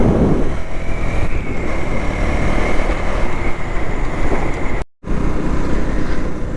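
A train rumbles past a railway crossing gate in a steady, loud, continuous roar heard from close by at the gate, broken by a momentary cut before it resumes.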